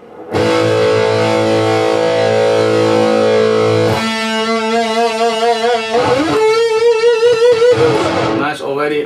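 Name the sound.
electric guitar through DIG 2.5 virtual guitar amp software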